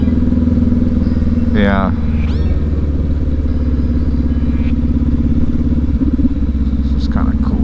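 A 2019 Honda CB500X motorcycle engine runs steadily throughout while riding, a loud continuous drone with a brief rising rev near the start, and someone speaks briefly over it.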